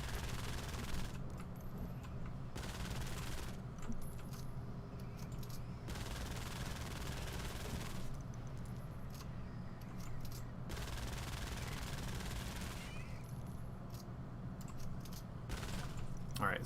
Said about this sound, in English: we can use our SMG here, which does a lot more damage than our assault weapon